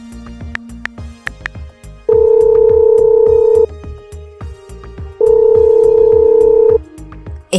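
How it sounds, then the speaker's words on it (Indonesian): A telephone rings with an incoming call in a drama scene: two long, loud electronic ring bursts with a pause between them, heard over quieter background sounds. "Waduh, istri saya nelpon nih."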